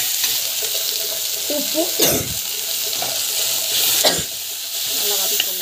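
Vegetables sauté in a pan for rava kichdi, a close sizzle with a few sharp stirring scrapes, while a voice speaks briefly over it.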